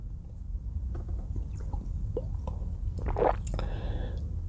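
Sips and swallows of Perrier sparkling water, soft wet squishes and small gulps up close over a low steady hum, with no talking.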